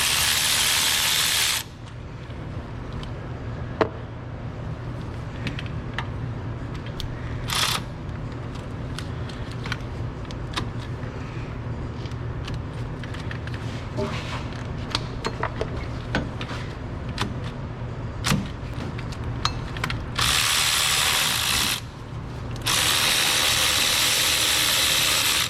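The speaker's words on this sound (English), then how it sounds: "Go ahead and start removing the bolts for the power steering pump." Continuous clicking of a ratchet working loose the 17mm power steering pump bolts on a Ford Ranger, a steady rapid pawl rattle with occasional metallic knocks, and louder whirring bursts near the start and end.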